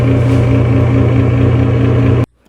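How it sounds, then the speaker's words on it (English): A noisy bathroom exhaust fan: a loud, steady mechanical hum with a low droning rumble and broadband whoosh that cuts off abruptly near the end. "If your vent is making this noise"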